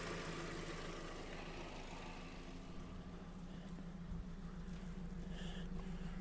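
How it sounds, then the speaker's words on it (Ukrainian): A 2007 Volkswagen Touran 1.6 MPI engine idles quietly and evenly, a low steady hum with a faint regular pulse and no revving. "Тихенько, рівненько працює двигун."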